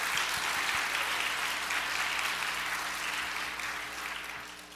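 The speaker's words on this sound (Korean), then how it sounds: "우리 뜨거운 박수로 하나님께 영광을 한번 올려드리겠습니다" A church congregation applauds during a Sunday service, a broad, even wash of clapping that fades slightly at the end, with no speech over it.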